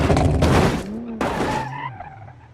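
Car drifting with traction control off in BeamNG.Drive, electric car: loud broadband tire skid and squeal over about two seconds, a strong burst, brief break, then a second surge fading out.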